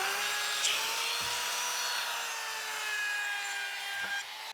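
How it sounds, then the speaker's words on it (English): An ash wood table is sanded with a power sander, a steady whirring drone with gritty rubbing on the wood, close and continuous, with a few brief knocks. "I'm just gonna sand it a little bit, clean it up."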